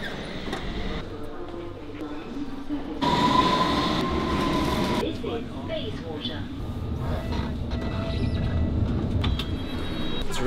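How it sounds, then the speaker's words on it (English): London Underground metro train at Bayswater Station, a steady loud rumble with a brief metallic squeal partway through and faint voices in the background. "It's a really good metro system around here."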